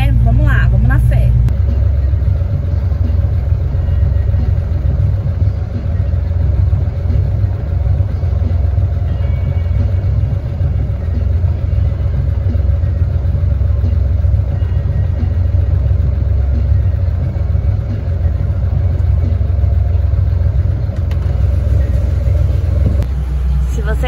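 A Chevrolet Opala car engine catches after a brief start and settles into a steady, close, low idle rumble that runs throughout, ending abruptly near the end.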